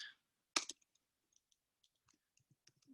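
Mouse clicks at a computer while setting up a real estate buyer's guide: a loud double click near the start, then a scatter of faint, light ticks and taps, with no talking.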